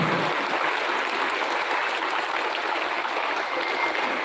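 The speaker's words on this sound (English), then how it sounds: "A big round of applause to Sir." Dense, steady applause from a school audience at a Republic Day celebration, a continuous wash of many hands clapping at moderate distance without a break or voices.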